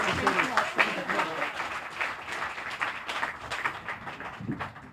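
Applause from an audience at a government press briefing, moderate and uneven with individual claps standing out, and voices mixed in beneath it.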